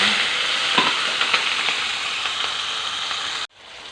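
Green chillies and onion pieces fry in hot oil already seasoned with cumin and mustard seeds, giving a loud, steady sizzle with a few stirring scrapes. The sizzle cuts off abruptly near the end, leaving only a faint hiss.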